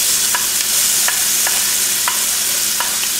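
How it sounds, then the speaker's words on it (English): Onions and garlic frying in a pan over a medium flame, a steady close sizzle with a few light scraping stirs breaking through at irregular intervals. "Lower the flame to medium and add the onions and the garlic."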